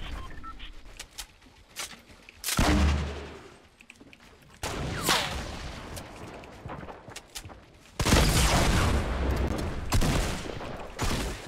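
Rocket launcher explosions in a first-person shooter, several loud blasts with roaring tails that arrive in bursts between quieter gunfire and background noise.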